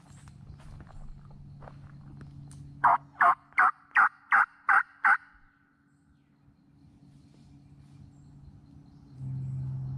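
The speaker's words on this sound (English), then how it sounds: "I just heard a turkey gobble." Wild turkey gobbling during a spring hunt in wooded bottomland: a single loud, rattling gobble of about seven rapid pulses, fairly close, against faint background noise and rustling.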